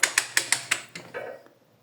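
An engine is turned over by hand to locate top dead center, giving five sharp, evenly spaced ratcheting clicks close up, followed by a softer scraping mechanical rasp that fades out.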